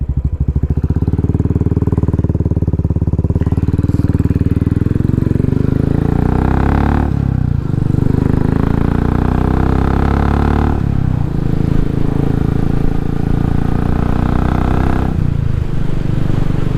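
A Royal Enfield motorcycle fitted with an aluminium handlebar cross brace rides along with a loud, close thumping single-cylinder engine, revving up through gears with brief drops at each shift.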